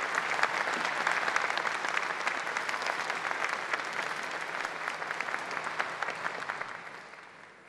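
Loud, sustained applause from a large audience welcoming the Indonesian defense minister and delegation at the KF-X/IFX fighter prototype launch at Korea Aerospace Industries, dense and continuous before fading out near the end.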